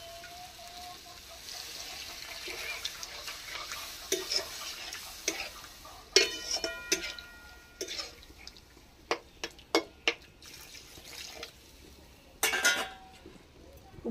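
A fish curry of tel jhal with water and raw mustard oil simmers in a pan, giving a low, steady bubbling hiss broken by scattered clinks and scrapes of stirring, close by and without talk.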